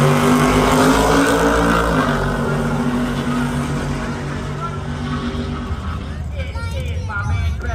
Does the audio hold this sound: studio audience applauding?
no